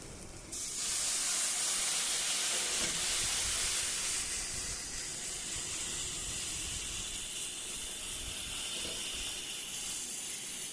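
Rice being stir-fried in a pan, a loud, steady hiss and sizzle that starts abruptly and continues close by for several seconds, with occasional stirring scrapes and no talk.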